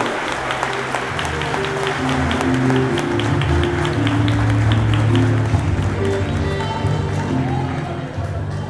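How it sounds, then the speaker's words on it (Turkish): Wedding guests at a Turkish wedding ceremony applaud just after the couple is pronounced husband and wife, a dense wash of clapping mixed with voices and low sustained tones throughout. "bu alkışlar hepimizin sevincinin, mutluluğunun ifadesidir"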